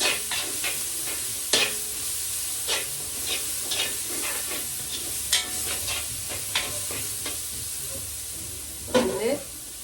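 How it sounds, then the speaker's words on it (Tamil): Ginger and garlic frying in a pan give a steady close sizzle and hiss, with scattered clinks and scrapes of stirring throughout. "இந்த இஞ்சி உள்ளி போட ஒரு நல்ல மனம் வரும்"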